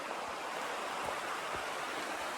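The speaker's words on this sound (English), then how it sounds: "I get to hear a waterfall all night" A waterfall rushes far below an Appalachian Trail campsite near Max Patch and Hot Springs, a steady broadband roar of falling water that stays constant and fairly soft throughout, with no voices.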